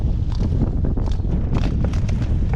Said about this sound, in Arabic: والله خوتي لا كاين الريح